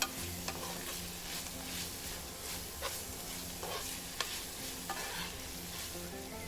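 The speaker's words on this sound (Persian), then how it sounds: "1 قاشق غذاخوری فلفل دلمه قرمز خرد شده بریزید و تفت بدید" Chopped green and red bell peppers sauté in a hot pan, a steady sizzle broken by scrapes and clacks of stirring, close and moderately loud with no talk.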